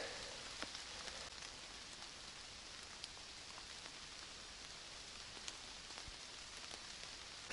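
Faint, steady light rain patters continuously, with scattered individual drops ticking through the soft hiss.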